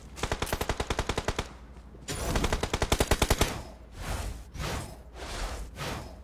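Video game gunfire crackles in rapid automatic bursts, two long rattling strings of shots followed by several separate whooshing blasts, loud and close with no talking.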